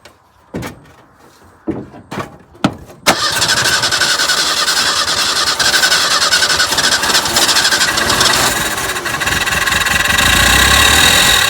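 A square-body Ford Ranger truck cranks after a few short clunks, then catches and runs at a loud, steady rough idle, revving slightly near the end.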